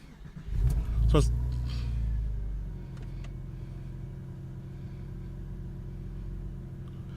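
A 1999 Porsche 911 Cabriolet engine cranks and catches with a loud rumbling start, then settles into a steady, close idle. A voice speaks briefly at the start.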